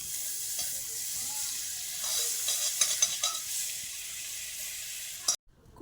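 Butter sizzling in a wok at the start of a fish butter masala, a soft steady hiss with a few light stirring clicks, quiet and close, cutting off abruptly near the end.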